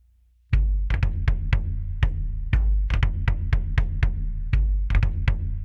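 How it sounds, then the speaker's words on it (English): Deep booming shaman drum hits in an irregular rhythm, each strike resonating low with a sharp attack, played alone and fairly loud. "you do get a shaman boom in here, which just is a drum."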